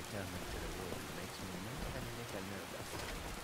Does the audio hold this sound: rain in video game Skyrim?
yes